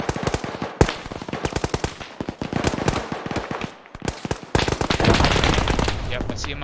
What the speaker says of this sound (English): I'm hearing another one maybe over here. Might just be a mounted gun.